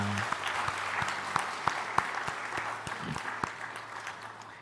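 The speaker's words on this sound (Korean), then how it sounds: "힘차게 박수로 우리 격려하겠습니다" A church congregation at a Sunday worship service claps in encouragement, a soft, moderately distant wash of applause with a few sharper individual claps standing out.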